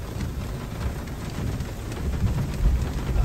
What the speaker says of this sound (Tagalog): Isang ulan, grabe.